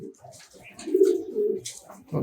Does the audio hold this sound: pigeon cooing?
yes